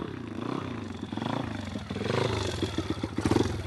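A motorcycle held in a slow wheelie, its engine revving and burbling up close with rising throttle pulses toward the end.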